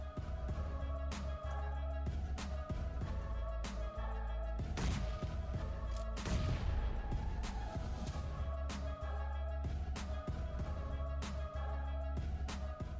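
UMP submachine gun firing in PUBG Mobile: repeated sharp gunshot bursts crack at irregular intervals over a constant low rumble, with a denser volley near the middle.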